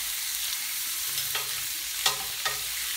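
Steak frying with butter in a pan gives a steady, close sizzle, broken by a few light stirring or scraping touches.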